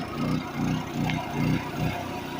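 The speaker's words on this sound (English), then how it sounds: "Small generators, when you're pulling a large load off of them, they do pulsate." A small generator engine runs under a heavy load, its low droning hum swelling and sagging in a steady pulse about every half second.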